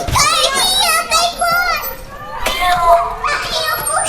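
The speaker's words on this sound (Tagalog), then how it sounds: "Kids." Children play and talk close by indoors, with high excited voices overlapping in quick bursts and shouts throughout.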